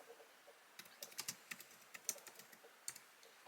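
Typing on a computer keyboard, quiet irregular key clicks in short bursts, close and faint against a low hiss, with no talk.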